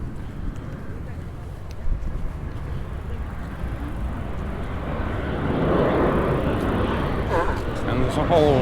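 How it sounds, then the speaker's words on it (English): A steady broadband engine roar that swells and grows louder over the last few seconds as an airplane comes in low to land near Ciudad Jardin, Palma, Mallorca, with faint wind and voices underneath. "just watch the planes coming in"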